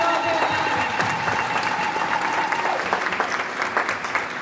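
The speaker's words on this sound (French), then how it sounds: "Acclamons très fort pour le Seigneur." A congregation applauds during an evangelical church service, sustained steady clapping from many people filling the room, with faint voices and a background tone underneath.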